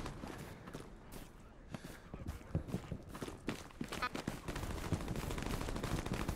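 Rapid gunfire in the Hell Let Loose game, sharp cracks and bursts scattered unevenly across the clip, some near and loud, others further off, building into denser firing toward the end.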